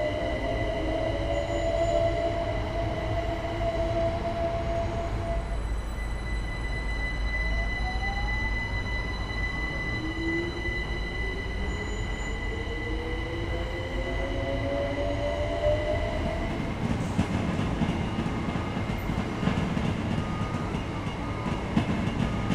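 Several simulated trains pass through a busy London Gatwick station in Train Sim World 2, a steady rumbling roll with squealing wheel tones and clattering carriages sweeping by, continuous and without speech.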